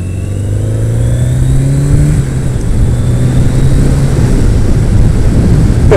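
Heavy motorcycle in the high 400-pound weight range riding on a highway, its engine droning loud and steady with rising and falling pitch throughout, close up, with no talk.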